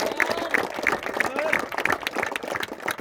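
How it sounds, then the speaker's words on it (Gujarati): A crowd claps at a cricket premier league auction-base tournament prize ceremony, a dense, steady patter of many hands nearby with people talking over it. "બધા તાળીઓ પાડજો મિત્રો."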